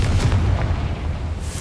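A Confringo fire spell bursts in a mine in Hogwarts Legacy, a loud, deep booming blast with rumbling low-end that rolls on and slowly fades over about a second and a half.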